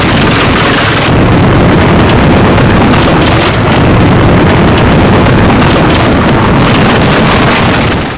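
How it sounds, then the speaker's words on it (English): The Beast of Turin, a record car driven by an early aircraft engine, runs loud and continuous, a harsh broadband metallic roar with gusty buffeting throughout and no voices. "The sound is loud, metallic, and aggressive, reminiscent of industrial machines and early aircraft engines"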